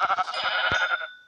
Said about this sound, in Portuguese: Opa, uma cabra.